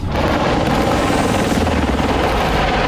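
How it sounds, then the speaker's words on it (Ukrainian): Three military helicopters landing special forces troops behind enemy lines near Pokrovsk, a loud, steady, dense rotor and engine roar filling the whole stretch with no break and no voices. "Три гелікоптери з бійцями спецпідрозділу ГУР висаджуються під самісіньким носом у ворога і заходять у його тил."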